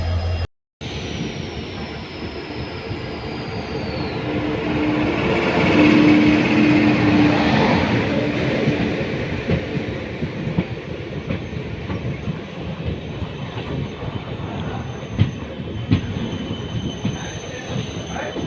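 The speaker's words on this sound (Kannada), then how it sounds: "ಸ್ನೇಹಿತರೆ ನಮ್ಮ ಟ್ರೈನ್ ಈಗ ಯಶವಂತಪುರ ಜಂಕ್ಷನ್ ಬಿಡ್ತಾ ಇದೆ" A train pulls out of Yeshwantpur Junction, a loud continuous rumble of rolling wagons with a brief wheel squeal midway and steady rail noise throughout, close and without talk.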